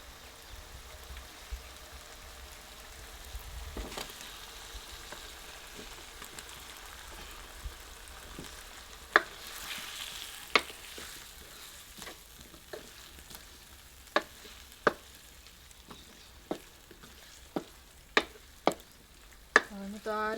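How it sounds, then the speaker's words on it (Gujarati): Potatoes sizzle and fry in a pan of garlic masala for bhungla bateta, a soft steady crackle punctuated by regular sharp scrapes and clicks of stirring that grow more frequent toward the end; no talking. "હવે આપણે નાખી દઈએ બટેટા"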